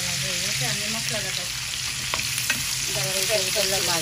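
Masala sizzles loudly in oil left from frying tilapia fish, a dense continuous frying hiss with occasional stirring clicks, while a voice speaks faintly in the background.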